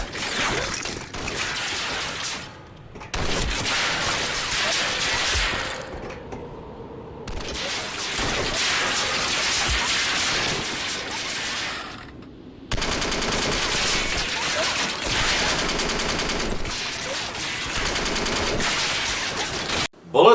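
Sustained bursts of video game machine gun fire aimed at a Zeppelin, loud and near, in long rapid volleys broken by brief pauses.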